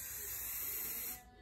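A spray bottle gives one steady, close hiss of mist lasting about a second before cutting off, with no talking over it.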